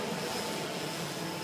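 A Blade 350 QX quadcopter drone holding a steady hover, its rotors making a constant, dense whir that neither rises nor fades.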